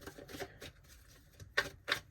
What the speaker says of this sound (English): Let me turn that back around and keep shuffling.